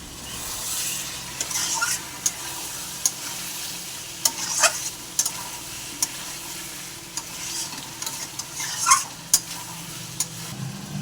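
Spice paste sautéing with potatoes and yam in a pan for an egg curry, a continuous sizzle broken by scraping stirs and sharp clinks of the spatula against the pot, close and steady.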